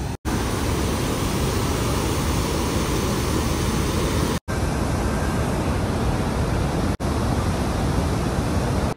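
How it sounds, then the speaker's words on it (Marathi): Water pouring over Sahastrakund waterfall near Nanded, a loud, unbroken broadband roar heard up close that fills the whole clip with no voices. "काय मस्त पाणी वाहत आहे."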